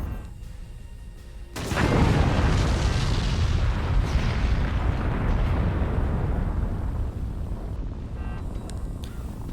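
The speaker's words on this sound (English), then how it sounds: "Ooh, a cannon straight into their core." A cannon shot in the video game Forts explodes into an enemy fort's core: a sudden heavy boom followed by a long roaring, rumbling blast that slowly fades over several seconds, loud and without talk.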